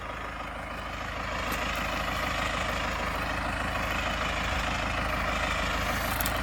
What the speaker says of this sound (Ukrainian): Орем ми тракторцем 892-м.